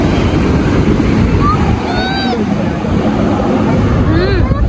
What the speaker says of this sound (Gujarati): દરિયો જો ખાલી છલાંગ મારે પાણીનો